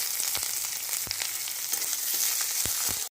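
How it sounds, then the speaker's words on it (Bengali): Onion and coconut frying in a pan, a continuous close sizzle broken by several sharp spatula scrapes and taps at irregular intervals. "প্রথমেই আমি এখানে পেঁয়াজটা ভাজব পেঁয়াজ আর নারকলটা দিয়ে দেবো"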